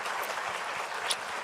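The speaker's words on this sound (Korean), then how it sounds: "우리 박수로 한번 격려하도록 하겠습니다" A church congregation at a Sunday service applauds its vocal ensemble and pianist, with a brief, even burst of many hands clapping together and no voices over it.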